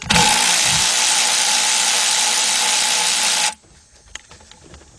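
A ratchet or power driver on a 12mm deep socket with a 3/8 drive wobble extension whirs loudly and steadily while backing out a bolt on a 2006 Kia Sportage EX 2.7 engine, then cuts off, leaving faint clicks and handling noises.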